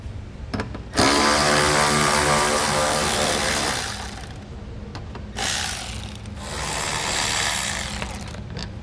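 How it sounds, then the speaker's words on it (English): A power driver with an 8mm socket spins out screws on a 2017 Jeep Cherokee during a trailer hitch install, a loud close whirring in two long sustained runs with a short break between. "We're going to remove those with an 8mm socket."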